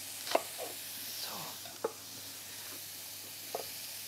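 Bacon, with some of the light-green part of a vegetable added, sizzles and fries steadily in a pan in a television cooking segment, a continuous hiss punctuated by a few sharp stirring clicks.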